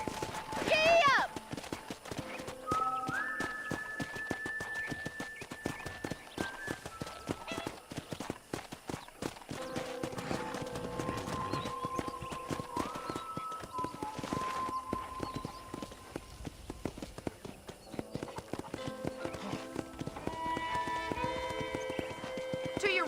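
Horse hooves clip-clop in a quick galloping rhythm throughout a Red Dead Redemption ride, with a whinny early on, while someone talks over the hoofbeats and a musical score plays beneath.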